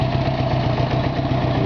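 Steady, loud idle of a 1982 Honda Goldwing 1100 motorcycle engine, close up, with an even low throb and no talk over it.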